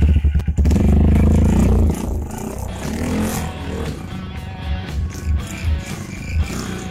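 A Honda CB150 Verza motorcycle with a racing exhaust revs loudly at first, then settles into a rough, uneven idle with some clattering.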